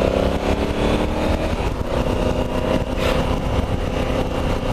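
A Honda Africa Twin motorcycle engine runs steadily on a road test ride in very cold weather, a continuous mid-pitched drone with wind noise, no voices.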